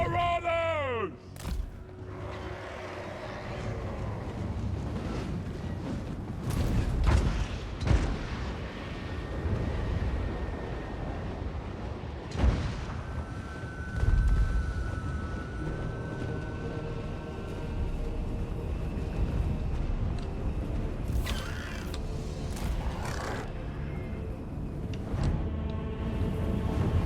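Mortar artillery fire in a Warhammer battle video game lands as heavy, booming thuds scattered through a busy mix of battle noise, rumbling and game character voices.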